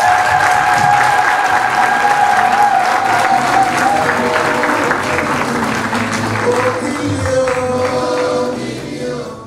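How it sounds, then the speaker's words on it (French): An audience at a political speech gives a sustained ovation, dense loud clapping with some cheering that holds steady for several seconds and then slowly tapers. "je voudrais que nous fassions une grande ovation pour votre propre présence."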